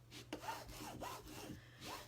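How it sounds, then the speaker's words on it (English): A small scraper tool rubbing firmly over the back of a canvas to press vinyl onto the front, giving repeated close, rasping strokes in a steady back-and-forth rhythm. "I'm going to take my little scraper tool and I'm just going to scrape really good on the back"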